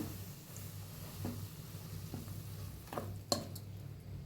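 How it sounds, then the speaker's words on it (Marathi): A spoon stirs chakli dough of bhajani flour, chakli masala, sesame and hot ghee in a metal bowl, giving faint scattered scrapes and clinks over a low background hum. "चांगलं चमच्याने मिक्स करून घ्या"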